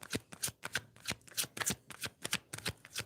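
Tarot cards are shuffled by hand in a quick, uneven series of soft riffling bursts, close and fairly quiet, with no talking.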